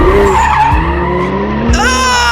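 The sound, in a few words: car skidding through a sharp turn while drifting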